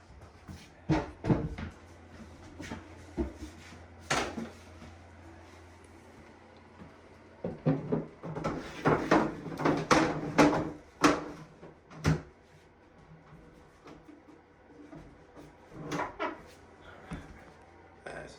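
Cabinet drawers are slid and pushed back into a custom bathroom vanity during a 1970s bathroom remodel: a close series of wooden knocks, slides and thumps, sparse at first, then a dense cluster of bangs midway before scattered clicks.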